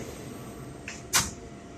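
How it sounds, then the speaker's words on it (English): Doors of a Brooklyn-bound 4 express subway train sliding shut, a single short thud over a steady hum of the train, preceded by a fainter knock. "Stand clear of the closing doors"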